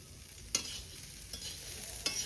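Boiled rice and vegetables stir-fried in a pan give a quiet, continuous sizzle, with three sharp scrapes of the spatula spaced unevenly across the moment.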